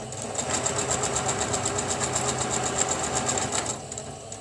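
A sewing machine runs steadily at a constant, moderate speed while stitching a Christmas boot-shaped cutlery holder for a festive table, the rapid needle strokes forming an even, continuous whir up close.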